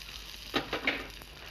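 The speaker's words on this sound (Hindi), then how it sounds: "ये जो तड़का है इसको डालें चटनी के ऊपर।" Hot tadka tempering poured over a yogurt chutney, giving a few quick, faint sizzling bursts that fade into quiet, with no talking.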